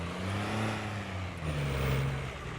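A truck engine in the Farming Simulator 22 video game drones low and steady, its pitch easing down and then holding, with no voices over it.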